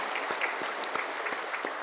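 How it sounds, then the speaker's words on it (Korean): Applause from a church congregation at an anniversary thanksgiving service, a steady dense patter of many hands filling the room, moderately distant, with no voices over it. "우리 하나님께 큰 박수로 영광 올리겠습니다"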